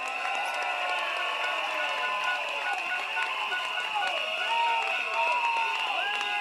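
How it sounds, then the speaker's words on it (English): Large outdoor political rally crowd at a stadium applauding and cheering a candidate, a broad continuous wash of clapping and shouts with whistles and horn-like tones layered through it. "So another round of applause for Grace Fu."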